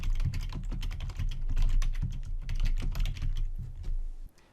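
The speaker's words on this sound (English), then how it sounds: "I could type hydrocolloid wound healing in this box" Rapid, continuous clatter of keys on a computer keyboard as search terms are typed into a library research database, steady and close throughout with no voices.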